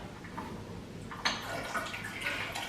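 Water running from a kitchen tap in a home, a faint steady flow with soft splashing that grows a little louder partway through.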